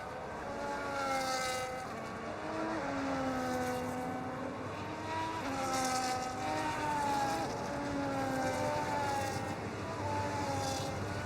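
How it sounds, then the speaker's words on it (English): Race car engines from the F1 25 video game, idling and blipping on the grid in Jeddah, Saudi Arabia, a continuous layered drone with wavering revs from several cars at once, moderately loud with no voices. "So as all the cars reform the grid, the drivers will be hoping to get a strong start."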